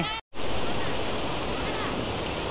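The Edamuri waterfall at Yadathittu near Srirangapatna, running full, roars loud and close as a continuous wash of rushing water after a brief silent gap at the start.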